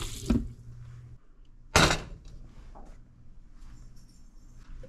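Water runs from a kitchen tap into a pot for boiling pasta, two short bursts of gushing flow with a quieter trickle between, close and alone.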